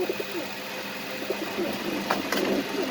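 White Dragon pigeons coo at a breeding farm, low throaty burbling calls repeating close by amid steady background noise.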